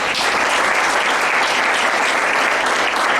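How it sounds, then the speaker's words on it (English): A crowd at a devotional satsang gathering claps steadily and loudly, a dense, continuous round of applause with no pauses. "A round of applause and thanks to all the devotees who have made the event a memorable one."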